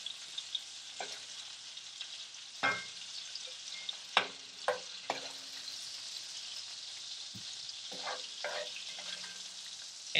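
Shrimp and mushrooms frying in a pan for a quinoa risotto, a steady close sizzle with intermittent clacks and scrapes of stirring and ingredients dropping in, no talking.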